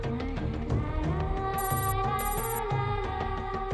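A melodic phone ringtone plays steadily and loud, a tuneful electronic ring repeating without pause, no talking over it.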